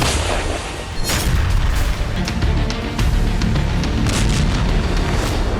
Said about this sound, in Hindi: अचानक कार में जोरदार धमाका हुआ।